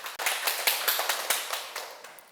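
Clapping from the audience at a Buddhist lecture: a handful of distinct, crisp claps in a loose, fairly quick rhythm, close and clear with no voices.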